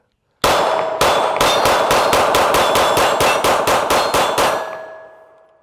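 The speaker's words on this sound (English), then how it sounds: "Let's see how it does with an empty mag, though. Same steel plate." An empty pistol magazine drops onto a steel plate and rings out in a loud metallic clang, followed by a rapid, evenly spaced series of sharp clanks for about four seconds before a lingering ring fades away.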